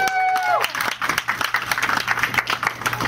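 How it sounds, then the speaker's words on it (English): A church congregation claps hands during a sermon about the rapture, a dense run of claps after a brief sung or called-out tone, steady and close for about three seconds. "Clap your hand, give the Lord glory."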